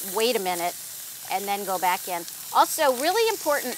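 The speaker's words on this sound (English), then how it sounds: "If you don't hear that hot sizzle right away, it's not hot enough." Steaks sizzle in olive oil in a hot cast iron pan, a steady bright hiss running underneath a person talking throughout.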